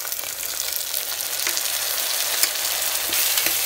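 Potato pieces frying with ginger garlic paste in a pan, a dense continuous hissing sizzle close by, broken by a handful of light clicks from stirring.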